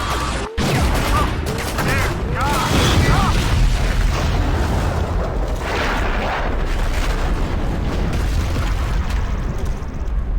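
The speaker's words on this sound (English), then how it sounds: "The Striders in the episode 2 Strider battle aren't actually shooting their cannon at anything" Strider cannon blasts in Half-Life 2 Episode 2's Strider battle, heavy booming bursts that roll continuously under dense battle noise, loud and sustained throughout.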